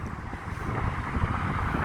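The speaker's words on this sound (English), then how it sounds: "we're getting towards the prom now and it's getting a bit windy" Wind buffeting a microphone during a walk toward the promenade along Lytham Road in Blackpool, a steady broadband rumble that holds without pause for the whole stretch.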